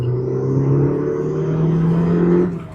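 A MK1 Ford Focus RS pulls hard in first gear, its engine note climbing steadily and loudly as it accelerates, heard from close by with no talking over it.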